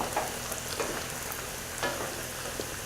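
Lentils being stirred in a soup pot, giving a soft, steady sizzle with a few scraping strokes from the spoon, close up and continuous.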